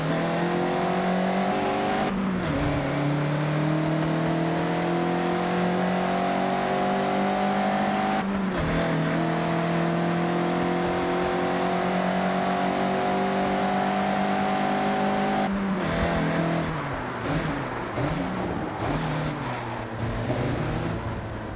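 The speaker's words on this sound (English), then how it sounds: "The MX-5 likes to be sideways." A Mazda MX-5 engine in the racing game Forza Horizon revs steadily and loudly, rising in pitch through each gear with short breaks at the shifts, then turning rougher and throatier near the end, with no talking.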